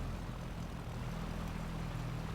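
A Cessna's propeller engine drones steadily from inside the aircraft, a constant loud hum with a low throbbing tone and no break over a few seconds, with no speech.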